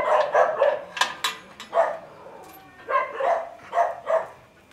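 A dog barks repeatedly nearby in loud, uneven bursts, with a few yips and whimpering sounds between the barks.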